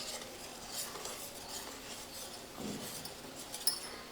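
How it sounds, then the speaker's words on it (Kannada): A spoon stirs eggless chocolate cake batter mixed with oil in a bowl, making a soft, steady scraping and swishing up close, with a faint clink near the end. "ಈಗ ನಾನು ಇದೆಲ್ಲ ಮಿಕ್ಸ್ ಮಾಡ್ಕೋತೀನಿ ನೋಡಿರಿ"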